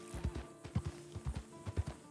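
Rhythmic clip-clop of horse hooves in the video game Red Dead Redemption 2, a steady trotting beat of paired thuds, fairly close and clear, with no talking.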